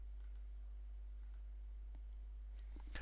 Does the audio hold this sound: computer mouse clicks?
yes